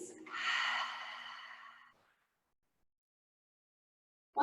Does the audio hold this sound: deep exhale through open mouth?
yes